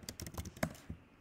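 Quick run of computer keyboard keystrokes while entering data into StatCrunch software, a brisk irregular patter of clicks close by with one louder key strike near the middle, no voices.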